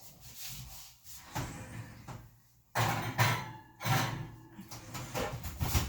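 An oven door closes after a roasting tin for a roast beef dinner goes back inside, heard as several nearby knocks and thuds of metal and door handling in a kitchen.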